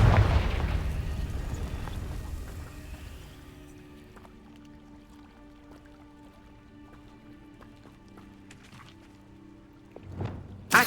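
A Confringo blasting spell cast in Hogwarts Legacy: a loud opening burst that decays into a long faint tonal tail, followed near the end by a second sharp impact.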